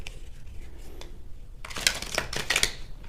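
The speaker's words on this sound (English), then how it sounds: "I'm going to shuffle it again." A deck of tarot cards is shuffled by hand, a quiet pause and a faint tap followed by a quick burst of crisp riffling flutters, close and alone.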